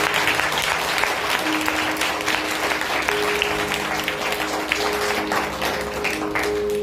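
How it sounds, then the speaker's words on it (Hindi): Loud, dense clapping from a church congregation at a Sunday service, praising Jesus, with a steady wash of hand claps and a faint sustained tone underneath. "तालियां बजाएंगे यीशु मसीह के लिए"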